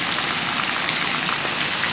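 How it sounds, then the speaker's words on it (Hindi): Heavy monsoon rain pours down in a steady, dense wash of hiss, loud and continuous, with no distinct thunder clap standing out. "पिछले 45 मिनट से गरज चमक के साथ बहुत तेज़ बारिश हो रही है"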